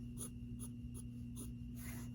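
Pencil cross-hatching on paper during shading practice: a series of five quick, scratchy strokes in a steady rhythm, close and fairly soft, over a constant low hum, with no talk.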